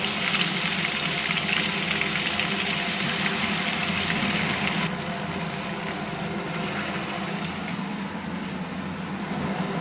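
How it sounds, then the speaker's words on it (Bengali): Chicken fries in butter in a pan for chicken chaap, giving a continuous, dense sizzle that stays loud and even from start to finish. "এবার আমি চিকেনগুলো এর মধ্যে ভেজে নেব।"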